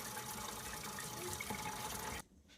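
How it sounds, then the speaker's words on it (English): Water from a kitchen faucet supply line rushes steadily into a sink, a continuous close gushing flow that cuts off abruptly near the end, leaving quiet. "Let's go and drain this line out with all the water out."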